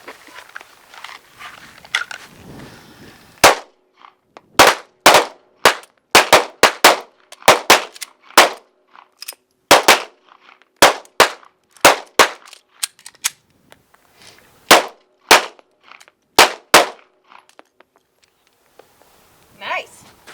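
Defensive pistol shots ring out at a firing range, a long irregular string of sharp, loud cracks, some in quick pairs and bursts and others spaced apart, over roughly twenty seconds.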